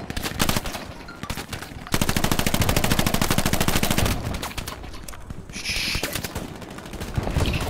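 Mounted machine gun firing in the Hell Let Loose war game, loud rapid sustained bursts with brief pauses between them, close up, amid battle noise.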